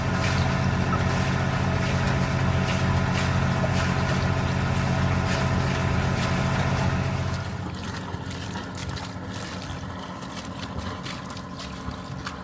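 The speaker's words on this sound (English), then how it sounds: "I think the exhaust is actually a little bit quieter, or you can hear as water coming out rather than kind of exhaust note" Volvo inboard boat engine idling steadily with a modified, quieter exhaust, a continuous close low rumble with watery splashing from the outlet, easing slightly lower partway through.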